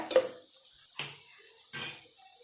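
A utensil clinks and scrapes against a pan three times, quietly and with short gaps, while long-sliced onions are stir-fried. There is no obvious sizzle underneath.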